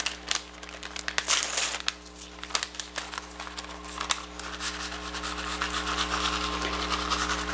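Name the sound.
sprinkling packet of dry onion soup mix on potatoes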